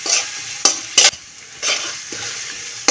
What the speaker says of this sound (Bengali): বাটা রসুনটা দিয়ে আমি একটু নেড়ে ছেড়ে দেবো, দিয়ে আমি রসুনটা ভালো করে বাদামি কালার করে বেজে নেব